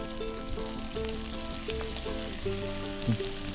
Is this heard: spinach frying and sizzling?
yes